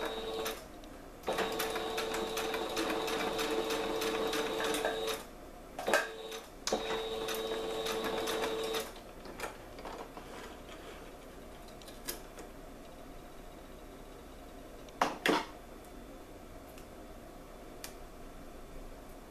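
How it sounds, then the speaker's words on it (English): A sewing machine stitches a cross-stitch Gameboy hair bow in two steady runs of whirring, each a few seconds long, separated by brief pauses and light handling clicks, then falls quiet apart from faint taps. "And then you're gonna sew it that way."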